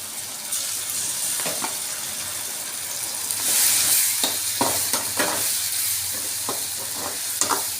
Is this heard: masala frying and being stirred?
yes